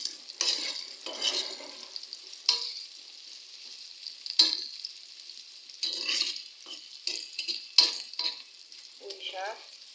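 Cumin seeds fry in a pan for Bengali pui shak (Malabar spinach) bhaji, with soft sizzling and repeated scraping strokes of a spatula stirring close up, in irregular bursts.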